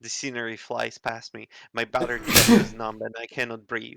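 A single sharp sneeze bursts out partway through a man's steady reading aloud, close and fairly loud, with speech continuing before and after it.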